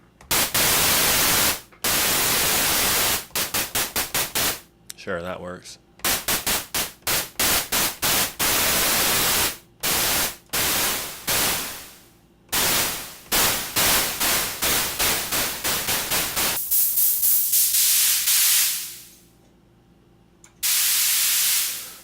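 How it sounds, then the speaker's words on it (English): White noise from a Logic ES2 synth noise preset, loud broadband hiss switched on and off in many rapid bursts of varying length, with a filtered sweep near the end; a voice briefly speaks. "I actually have a noise preset."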